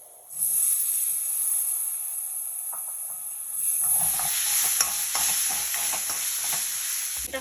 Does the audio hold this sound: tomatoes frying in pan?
yes